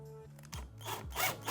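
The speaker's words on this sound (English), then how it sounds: "I'll take a cordless and drive it in." A cordless drill driving a screw into an acoustic panel wall, with short whirring bursts that stop and start several times, close and fairly quiet.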